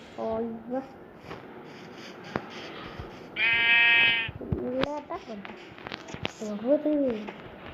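A sheep bleats several times nearby, with one long, loud, wavering bleat standing out among shorter calls, while a person talks intermittently around them.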